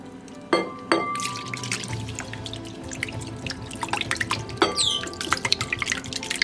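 Oat milk is poured into vegan batter for a blooming onion and stirred in, giving liquid trickling and wet splashy stirring with a few sharp clinks of a utensil against the bowl, close and moderately loud, no speech.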